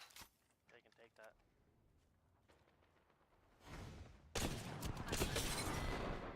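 Video game gunfire crackles in dense, sustained bursts that swell loudly toward the end, after a quieter stretch with scattered clicks and brief voices.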